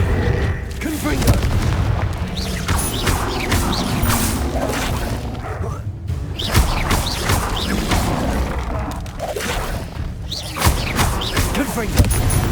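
Confringo fire spells in the video game Hogwarts Legacy burst in repeated loud, booming explosions with crackling impacts and whooshes, overlapping continuously in the middle of busy combat noise.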